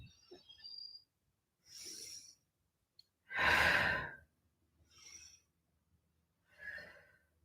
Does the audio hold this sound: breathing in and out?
yes